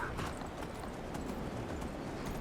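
A horse's hooves clip-clop in the video game Skyrim, a quiet, steady run of hoofbeats with no talk over it.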